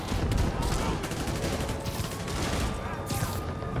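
Enemy gunfire in Marvel's Spider-Man comes as a dense, rattling fusillade of rapid shots, steady and fairly quiet beneath the game's busy soundscape, with speech-like sound mixed in.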